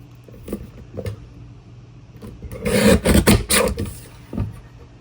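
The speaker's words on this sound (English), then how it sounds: "So just bringing in my small trimmer, I'm gonna trim that down to 4 inches." A small paper trimmer slicing scrap paper down to 4 inches, giving a dense rasping cut of about a second and a half, close and fairly loud, framed by a few soft handling knocks.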